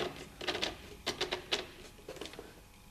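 Combination dial of an Ugears wooden mechanical safe model being turned, giving a series of small, sharp wooden clicks in irregular clusters, close and fairly quiet, with no talk.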